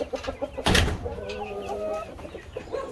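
Egg-laying hens cluck close by in their coop, a run of short repeated clucks with one louder burst early on and softer murmurs continuing to the end.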